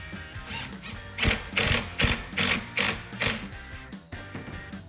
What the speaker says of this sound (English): Tighten your hose clamps.